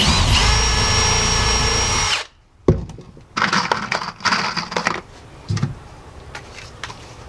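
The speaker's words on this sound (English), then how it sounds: "We'll pre-drill." A power drill pre-drilling holes whirs steadily, then cuts out; after a pause come short bursts of drilling and a few clattering knocks.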